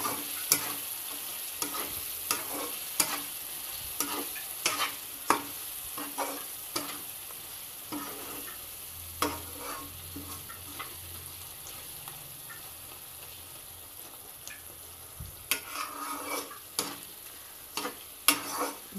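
Pav bhaji masala and capsicum stirred in a frying pan, a continuous sizzle broken by frequent ticking spoon scrapes and taps against the pan, close and steady.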